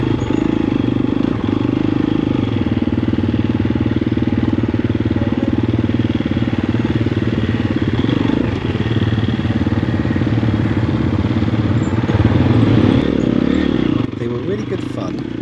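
A Triumph TF250-E enduro motorcycle rides through off-road sections, its engine a steady loud drone with shifting revs and mechanical clatter, close-up for the whole stretch, with a brief surge near the end.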